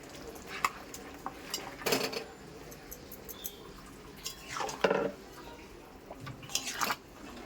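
Chicken pieces being added one by one to a simmering pan, giving soft plops and clinks of a spoon against the pan over a low sizzle, with a few louder scraping bursts.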